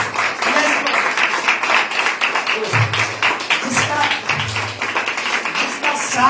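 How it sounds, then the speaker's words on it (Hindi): A church congregation claps hands together in worship, a dense run of steady claps mixed with voices singing or calling out over them. "आइए हम ताली बजा के उसको महिमा दें"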